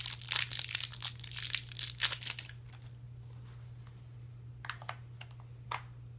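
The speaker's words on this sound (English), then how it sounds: "Four AAA batteries." Four AAA batteries are handled for a TI-84 Plus graphing calculator, with close crisp clicks and plastic rattles, dense at first and then sparse single taps over a low steady hum.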